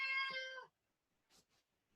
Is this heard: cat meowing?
yes